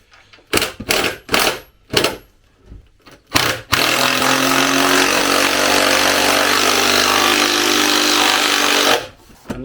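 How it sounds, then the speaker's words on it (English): A Bosch impact driver drives a bolt with a large washer into timber, opening with several short bursts and then one continuous loud hammering run of about five seconds before stopping. "Then I've got my trusty Bosch impact driver."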